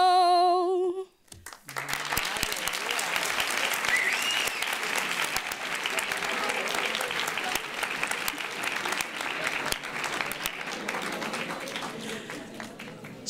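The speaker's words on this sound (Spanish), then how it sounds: "Súper merecido los aplausos, ¿eh?" After a sung fado ends, an audience at a school event breaks into sustained applause, a broad, steady roar of many clapping hands lasting over ten seconds, loud and close, with scattered crowd voices underneath.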